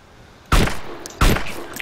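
Two loud, sharp sniper rifle shots in the video game DayZ crack out about three-quarters of a second apart, each with a short echoing tail, with no voices.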